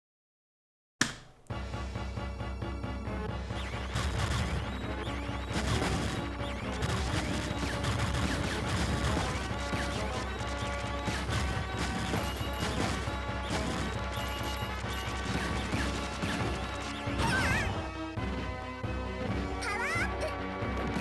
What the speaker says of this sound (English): that explosion is really good. It's a really good stock effect